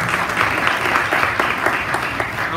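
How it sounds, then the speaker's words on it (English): Audience applause filling a room at an event welcoming a doctor, a steady dense clatter of many hands, loud and sustained throughout with no pauses. "You've clapped. That's a good thing."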